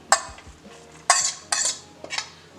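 Sliced vegetables for chicken shawarma, such as lettuce, carrot, capsicum and cucumber, being tipped into a bowl and tossed: four sharp clattering scrapes and clinks with quiet gaps between, close by and without speech.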